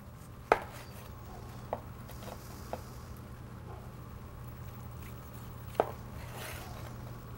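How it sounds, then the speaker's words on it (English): A sharp knife slices through a tomato, giving a few separate, crisp cuts against a board, spaced over a low steady background hum. "This one you need a really good sharp knife to get through the tomato."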